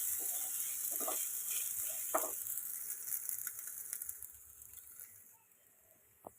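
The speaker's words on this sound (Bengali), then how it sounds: "এবার সাবুটা সবজির সঙ্গে কিছুক্ষণ ভেজে নেব, যতক্ষণ না রঙটা পাল্টে আসে।" Sago fries with chopped vegetables, turmeric and salt in a pan, giving a soft steady sizzle broken by a few clinks and scrapes of stirring, fading quieter toward the end.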